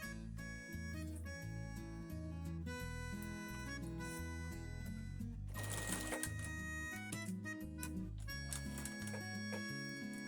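A sewing machine stitching a fabric face mask runs in steady bursts, its fast mechanical clatter close and continuous over a tonal background of music, with a brief pause before it picks up again.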